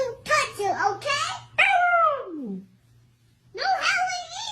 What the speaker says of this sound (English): No howling either.